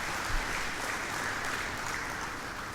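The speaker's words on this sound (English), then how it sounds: "So can I have a big round of applause for everyone who's made today possible?" An audience applauds steadily at a CFO conclave business event, a dense, even wash of many hands clapping that fills the whole stretch without pause.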